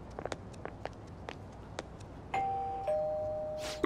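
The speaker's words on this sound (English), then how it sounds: "You ring the bell." A doorbell chimes twice with a clear two-tone ding-dong at a house in Persona 5 Royal, preceded by scattered light footstep taps.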